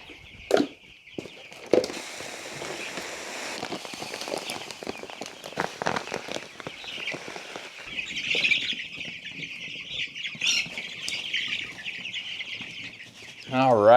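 Young meat chickens on a small-scale farm cluck and squabble over feed, with busy overlapping calls, scuffling and a sharp squawk near the end, all close by.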